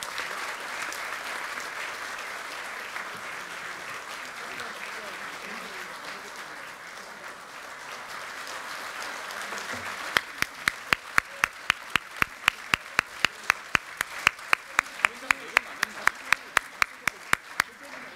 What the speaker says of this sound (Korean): 뜨거운 축하의 박수 부탁드리겠습니다.